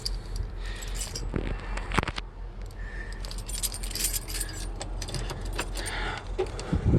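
Keys jangling near a junkyard 1970 Ford F100 Custom truck, a close metallic rattle in several bursts with small scrapes and clinks, under faint background noise.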